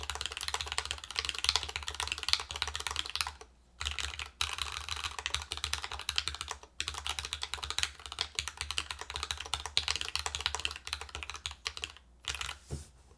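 Rapid, continuous typing on a Dimple+ mechanical keyboard build with a short spacebar and mismatched keycaps gives soft, dense pattering clicks, close up, with a few brief pauses and no speech.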